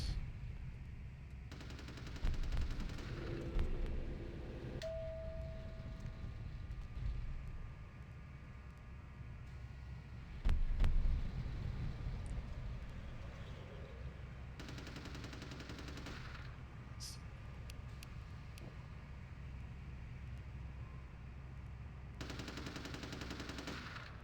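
Gunfire in Vampire: The Masquerade – Bloodlines, played in third person, comes as bursts of fairly quiet game shots over a steady background hum, with a louder cluster near the middle and no talk.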